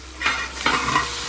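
Ginger paste, garlic paste and green chili sauté in a pan for butter chicken, with a steady close sizzle and a couple of soft stirring scrapes.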